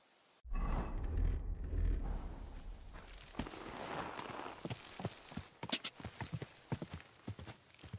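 Horse hooves in the video game Kingdom Come: Deliverance II, clopping in an uneven trot of sharp close knocks after a brief rushing swell at the start, with no talk over them.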